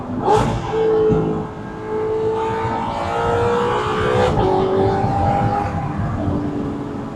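A first-generation Audi R8 sports car engine drops a gear with a quick rev blip, then settles into a steady, rising hum as it keeps driving.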